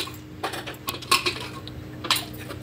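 Metal clinks and clatters as the lid is fitted onto a pressure cooker holding boiled lentils, a handful of close, sharp knocks and scrapes with no talk.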